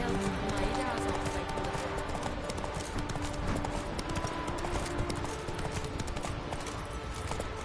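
Horse galloping in The Witcher 3 video game: rapid rhythmic hoofbeats drumming steadily throughout, close and loud against a dense background of game ambience.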